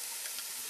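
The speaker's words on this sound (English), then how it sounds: "These all need to be fried a little bit. And I'll stir it around." Ingredients frying in a pan, a short close burst of steady hissing sizzle with a faint scrape of stirring underneath.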